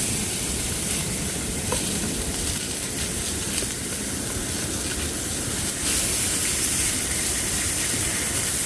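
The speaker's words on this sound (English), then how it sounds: "Take and saute your onions." Onions sauté over a wood stove in a hot tent on a cold, windy, lightly rainy day, giving a steady close sizzling hiss that runs unbroken throughout and swells slightly louder near the end.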